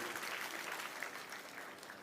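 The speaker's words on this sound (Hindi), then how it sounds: "यशस्वी प्रभारी जी के लिए भी जोरदार तालियां महेंद्र सिंह जी के लिए" A crowd at a BJP membership-drive event claps for the party in-charge, a continuous wash of many hands that holds steady and eases slightly toward the end, with no clear speech over it.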